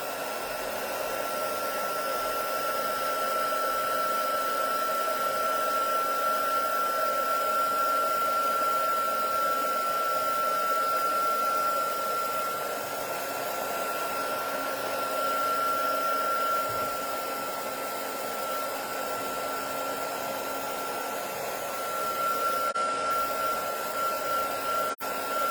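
A hair dryer blows steadily for a long stretch while drying a handmade craft piece, producing a constant, even whirring hum with a thin whine and no talking.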